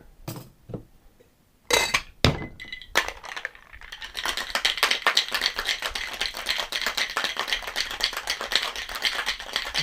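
Italian Sunrise cocktail in a shaker: a few sharp clinks and knocks of ice and glass, then a sustained rapid rattling of ice shaken hard, close and continuous to the end.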